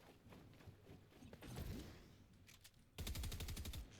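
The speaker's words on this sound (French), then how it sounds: "Ok, ça tire là-bas." Gunfire in a ranked Reload match of a shooter video game: bursts of rapid shots, with a dense sustained volley in the final second, fairly loud and without talk.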